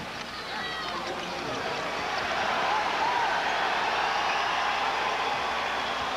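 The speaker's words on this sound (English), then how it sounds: "as soon as Kester got his hands on the ball, the crowd went wild" At a 1990 NCAA men's college basketball game between Xavier and Evansville, an arena crowd roars in a dense, swelling wall of cheering. The noise builds and holds loudly, and a commentator's voice runs underneath.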